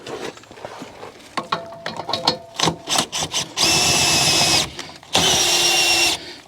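Handheld drill motor whirring in two sustained loud bursts after a stretch of clicks and handling knocks, close by.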